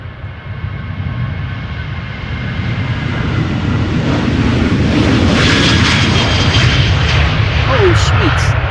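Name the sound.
KLM jet airliner at Schiphol Airport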